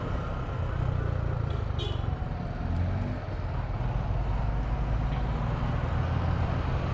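Stock-pipe 150 Suzuki Gixxer motorcycle on the ride, its engine running as a steady, fairly quiet droning hum mixed with road and wind noise, with no speech.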